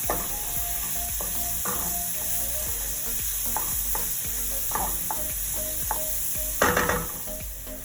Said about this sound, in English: Now that our oil is nice and hot, we're gonna add the onions and we're gonna cook this for 5 to 6 minutes, stirring occasionally